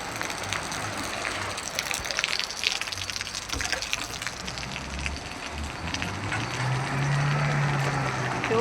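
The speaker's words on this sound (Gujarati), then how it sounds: "એટલું બધું પાણી ભરાઈ ગયું છે." Floodwater rushes and gushes continuously through a village after heavy rain, a broad roaring wash that holds steady throughout with a faint low hum near the end.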